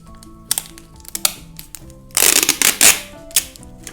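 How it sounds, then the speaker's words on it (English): Packing tape is pulled and pressed to join cardboard pieces, with sharp ripping bursts, crinkly crackles and taps, loud and close, interrupted by brief pauses. "One technique that I like to do is just using tape."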